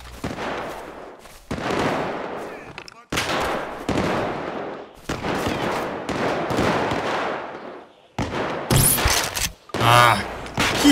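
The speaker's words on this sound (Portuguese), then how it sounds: "Que tiro bosta é esse dessa escopeta?" Loud bursts of shotgun fire in the video game GTA V zombies mode, several heavy blasts in quick succession with short gaps, then sharper shots near the end.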